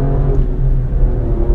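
An Alfa Romeo Stelvio Quadrifoglio engine pulls hard from third gear around 4000 rpm inside a tunnel, a loud, deep, continuous rumbling roar echoing close by.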